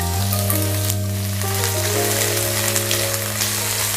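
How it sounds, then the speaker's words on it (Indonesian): Chilies, shallots and garlic frying for sambal give a continuous, dense close sizzle, steady throughout over a constant low tonal hum. "Sekarang saya akan menggoreng cabenya."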